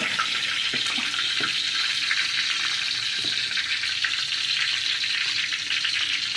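Curry leaves and onion fry in a pan, giving a continuous even hiss close by, with a few faint knocks of stirring underneath and nobody speaking.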